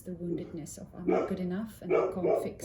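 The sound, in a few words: dog barking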